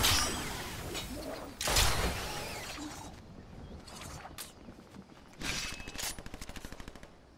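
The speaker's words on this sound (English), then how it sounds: "They're shooting over to the north. Quite a bit of it, actually. Like, non-stop shooting." Rapid, sustained gunfire in a Fortnite trios match, with bursts of automatic shots and cracks rattling on and off, moderately loud and distant-sounding, ending in a quick staccato run of shots.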